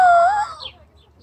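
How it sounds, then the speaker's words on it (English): A rooster at a farm petting zoo lets out one short, loud, close crow that tails off within about half a second, leaving quiet background. "Do not crow. I will get loud, loud,"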